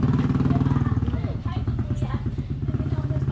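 Motorcycle engine idling and revving up close, a steady throbbing putter with rhythmic pulses throughout, voices faintly mixed in.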